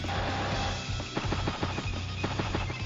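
A mech unit opens fire in Advance Wars: Days of Ruin, a quick burst of sharp, evenly spaced gunshot pops over a steady game soundtrack, fairly quiet and lasting only a couple of seconds.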